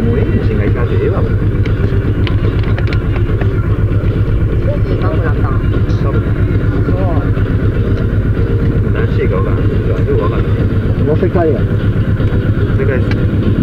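A worn motorcycle engine drones steadily and loudly with a constant pulsing tone while people talk over it, riding along the Pearl Road in Japan.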